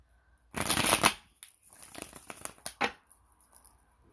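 Tarot-style oracle cards are shuffled close up: a quick riffling burst followed by a series of lighter snaps and flicks as the deck settles.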